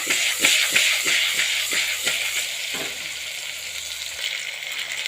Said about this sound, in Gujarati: 5 મિનિટ શેકાવા દેશે ફુલાવર અને બટાકા ડુંગળી બધું સરસ મજાનું